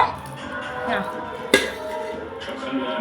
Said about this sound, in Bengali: এখানে গরম গরম ভাতটা বেড়ে নিচ্ছি থালাতে